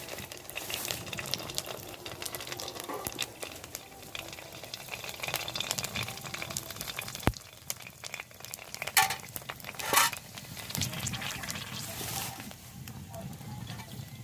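Fuchka puris frying in oil in a pan, a low steady sizzle with intermittent bursts and utensil scrapes as they are lifted out, with brief speech in between.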